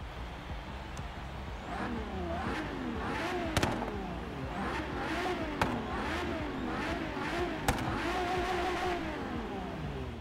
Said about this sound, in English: It's definitely got that V8 grumble, but you can also hear that supercharger.